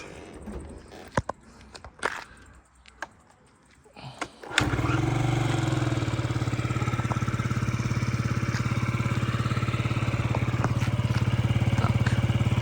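A small fuel-injected Yamaha Jog SA36 scooter engine starts up after a few clicks and handling noises, then idles steadily and evenly, close by and fairly loud.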